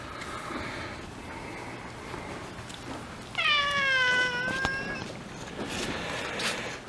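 A cat in a greenhouse gives one clear, drawn-out meow midway through, close by, over a steady low background hiss.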